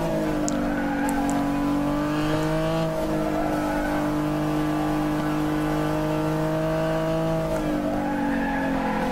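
A Peugeot 905 race car engine in Gran Turismo 6 during a Le Mans race drones loud and steady at high revs, its pitch dipping and rising as it shifts, with faint tire squeal over continuous engine roar.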